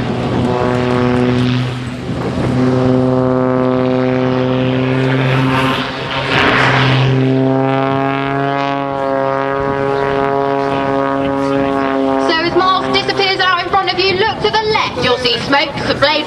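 An Extra propeller aerobatic plane of an air display team performs rolls at the 2008 Waddington air show, trailing smoke. Its steady engine drone rises and falls at moderate distance while a commentator talks over it throughout.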